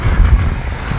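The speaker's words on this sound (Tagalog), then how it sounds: "Ang lakas ng hangin" A strong, cold wind buffets the microphone beside a roadside in Japan, a loud, steady low rumble of gusting air filling the whole moment.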